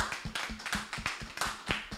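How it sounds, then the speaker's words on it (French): A church congregation at a Sunday service claps for Jesus Christ in sharp, rhythmic strokes roughly four per second, close and distinct with a faint tone sounding beneath. "Applaudissons pour Jésus-Christ."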